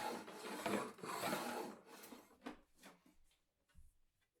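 A spokeshave pares a wooden piece clamped in an Enjoywood vise, giving rasping scrape strokes that start long and steady, then shorten into quick separate passes with a soft knock at the end, close and fairly quiet.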